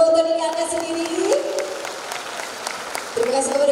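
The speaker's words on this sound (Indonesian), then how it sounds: "Mereka tepuk tangan untuk diri anda sendiri." Applause from an audience at a women's inspiration program event in Johor, a steady patter of clapping that runs throughout, with someone speaking over it.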